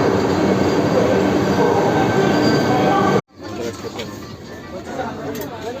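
A Vande Bharat train heard on a platform or boarding in Hyderabad gives a loud, steady rumble with wheel noise, then a sudden cut to a quieter mix of rail sounds, with talk throughout.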